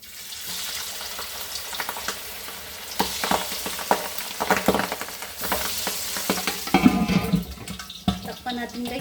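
Pork belly sizzles and crackles in hot oil, with bursts of spattering and some clattering and running water mixed in near the end.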